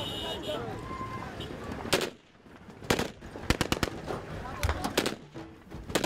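Sharp gunshots crack out in scattered bursts, some single and some in quick rapid clusters, over background noise and faint voices.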